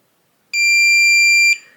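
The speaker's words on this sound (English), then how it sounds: "once you hear that long beep" A Kwikset keypad lock gives one long, loud, steady electronic beep lasting about a second during a reset, alone in a quiet room.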